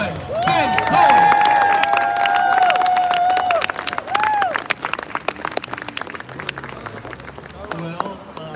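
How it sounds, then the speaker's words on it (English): An outdoor rally crowd outside the British Consulate in New York applauds and cheers for Ben Cohen, with loud clapping, whistles and shouts that thin out into scattered claps and murmuring voices. "So give a big round of applause to Ben Cohen."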